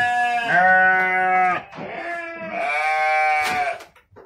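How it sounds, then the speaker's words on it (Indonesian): Sheep in a crowded farm pen at AB Farm give two long, loud, wavering bleats close by, separated by a brief pause, with fainter animal noise at the end. "domba-dombanya di AB Farm."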